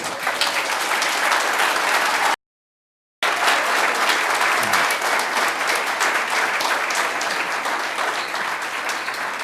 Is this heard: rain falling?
no